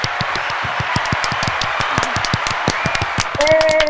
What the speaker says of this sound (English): We're clapping it up for you.